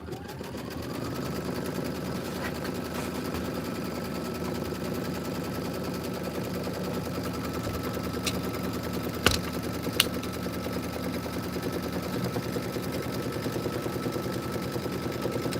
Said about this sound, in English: We're going to do our tack down. And then we are going to do the quilting stitch.